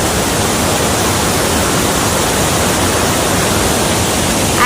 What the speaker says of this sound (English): So it's the other end of waterfalls